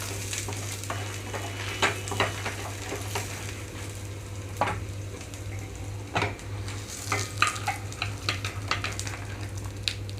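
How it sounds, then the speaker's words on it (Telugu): Grated coconut roasts and sizzles in a pan, a steady soft frying hiss with intermittent scraping stirs and light clicks of a spoon, over a constant low hum. "కొబ్బరిని కూడా ఒక నిమిషం పాటు వేయించుకుంటున్నాను"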